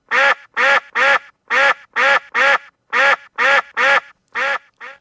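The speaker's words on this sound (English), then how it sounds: "this is our quacking duck" A duck sound effect quacks loudly and clearly about eleven times in an even, rapid series, each quack sharp and nasal against silence.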